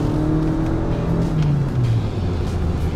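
A 2019 Lexus ES with a CVT accelerating hard from rest, a steady engine drone heard from inside the cabin whose pitch climbs smoothly and then holds as the car gathers speed.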